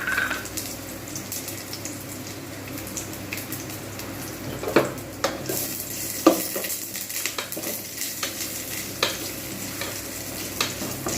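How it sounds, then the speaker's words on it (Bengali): Sliced onions fry in white oil in a kadai, a steady close sizzle with scattered clinks and scrapes of a spoon stirring against the pan throughout. "এবার আমি এতে পেঁয়াজগুলো দিয়ে বেরেস্তা তৈরি করে নেব"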